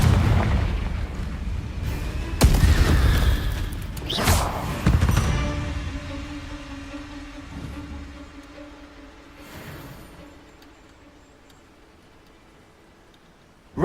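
A Confringo blasting spell explodes in Hogwarts Legacy, two or three loud close booms in quick succession followed by a fading rumble, with no talk.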